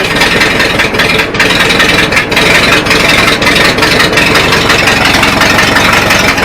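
A Farmall Super A tractor engine idling loud and close just after a cold start, a steady low rumbling chug with a rough, slightly knocking rhythm and no talking.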